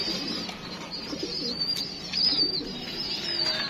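Pigeons of a good bloodline coo softly in a loft. Low, soft coos repeat over a faint background hiss, with a few thin high chirps.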